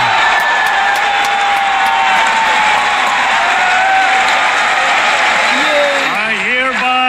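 Loud, sustained applause and cheering from the audience at the 2024 State of the Nation Address after a ban on offshore gaming operators is announced, with a voice talking over it near the end.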